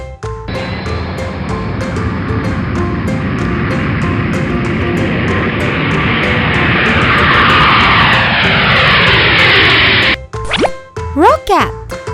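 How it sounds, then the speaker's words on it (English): A fixed-wing airplane roars loudly and steadily for about ten seconds, its engine and jet noise building slightly before cutting off, followed by brief chirpy sound effects. "Airplane."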